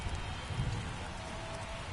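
Rain falls steadily in a night baseball game between the Blue Jays and Yankees in MLB 24, a soft, even hiss with no separate drops standing out and no voices over it.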